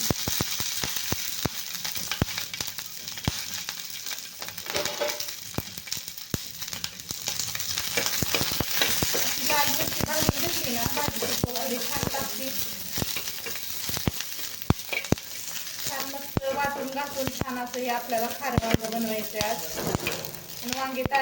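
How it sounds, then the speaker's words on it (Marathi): Green chillies frying in oil in a pan for a fresh brinjal dish, a steady close sizzle with repeated sharp stirring clicks and scrapes, mostly uninterrupted by talk. "आपल्याला तेल टाकून थोडीशी मिरची भाजून घेणार आहे"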